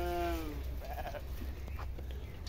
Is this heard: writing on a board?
no